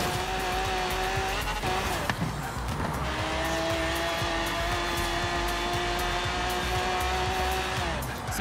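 An Impala SS lowrider revs and roars steadily in Forza Horizon 3, its engine loud and constant, with tires squealing through turns and the pitch shifting as it speeds up.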